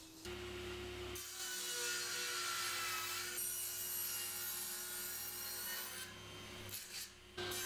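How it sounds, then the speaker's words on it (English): A table saw with a miter gauge and stop cuts wood boards to final length for an industrial rustic coffee table: a loud, steady whine as the blade passes through the wood for several seconds, then a brief pause and a second short cut near the end. "then I can get a stop set up on the miter gauge and the other pieces cut"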